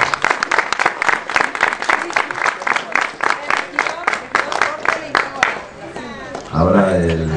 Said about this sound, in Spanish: Un aplauso fuerte para el regidor.